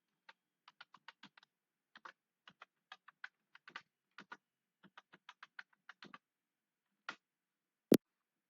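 Someone enters an ID and password on a computer keyboard, quiet separate key taps in short bursts with brief pauses, ending in one sharp, louder keystroke.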